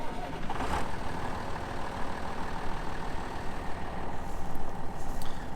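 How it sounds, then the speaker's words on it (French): A tractor engine used for flax rolling starts and settles into a steady rumbling idle close by, with a brief burst near the beginning, and no talk over it. "Bon allez, démarrage du taxi, pour ceux qui aiment bien le moteur."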